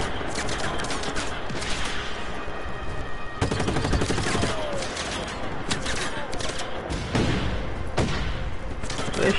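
Enemy gunfire in Just Cause 3, dense crackling bursts of shots rattling steadily throughout amid busy game ambience, loud and continuous with heavier thumps near the middle and end.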